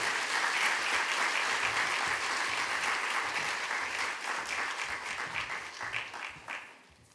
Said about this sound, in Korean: 한번 크게 박수함으로 환영하겠습니다